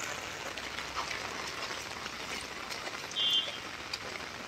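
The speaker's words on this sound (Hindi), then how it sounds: "तीन दिन से लगातार बारिश हो रही है।" Steady rain in Madhuban hisses softly and evenly, a faint continuous patter with no voices.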